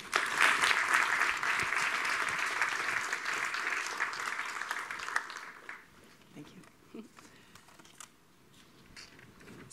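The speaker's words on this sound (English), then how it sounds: "you've got to clap, to Julie Winkler." An audience at a trading and investing event applauds to welcome a guest on stage, dense clapping that fades after about five seconds into scattered claps and quiet room noise.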